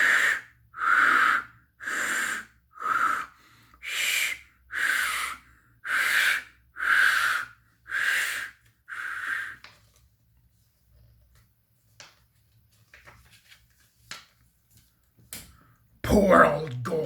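About ten evenly spaced, breathy steam-locomotive chuffs pulse roughly once a second, then stop, leaving near silence with faint clicks before a sudden noisy burst.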